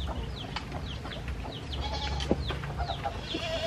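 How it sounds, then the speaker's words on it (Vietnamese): Ducklings on a farm in rural Bến Tre, Vietnam, giving rapid high peeping calls in quick overlapping bursts, close by, with a brief low cluck among them. "Có mấy vịt con rồi các bạn."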